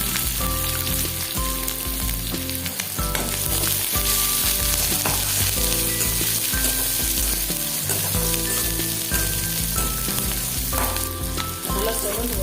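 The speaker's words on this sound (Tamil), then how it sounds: "அடுத்து கட் பண்ணி வச்சுருக்கிற வெங்காயம் சேர்த்துக்கலாம்." Chopped onions fry in hot oil in a pan for a Tamil-style chicken curry, a dense, steady sizzle with repeated stirring scrapes, close and loud without any talk.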